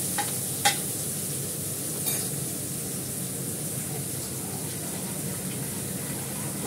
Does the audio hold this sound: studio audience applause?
no